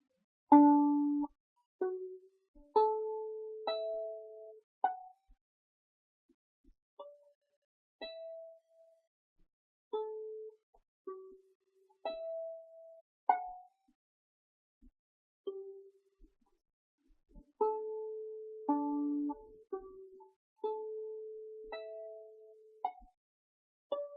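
A gentle, sparse Renaissance melody of plucked, bell-like notes plays slowly with pauses between phrases, with no voices.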